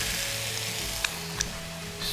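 Meat sizzles steadily in a hot dry frying pan, a constant crackling hiss with a couple of sharp pops.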